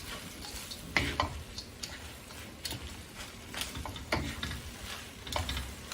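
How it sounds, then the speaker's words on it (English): Pad thai noodles are stirred and folded in a hot frying pan, with a soft sizzle beneath repeated clacks and scrapes of a utensil against the pan at an irregular rhythm. "you're just gonna wanna mix it a little bit, just to get it folded in"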